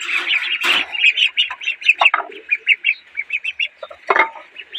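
Young ducklings, a little dirty and due for a bath, give rapid, repeated high peeping calls in a steady chattering run, close by with a few louder squawks mixed in.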